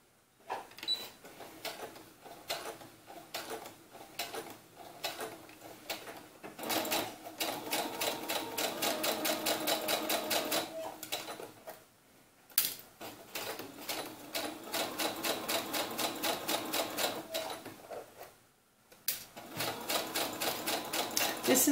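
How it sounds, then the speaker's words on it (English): A sewing machine runs in long steady bursts while stitching the seam of a doll romper, its rapid mechanical needle chatter pausing briefly between runs and starting again. "we'll go ahead and start sewing that."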